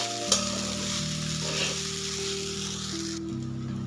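Soaked sabudana khichdi, tapioca pearls with potato, being stirred in a pan: a steady soft sizzle with a scraping stir and a sharp clack near the start, plus a constant low hum underneath throughout.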